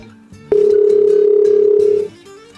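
A single long electronic telephone tone sounds steadily for about a second and a half over faint background noise.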